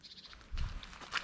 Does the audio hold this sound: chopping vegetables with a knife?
no